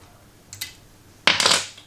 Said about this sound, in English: I'm going to use my vise.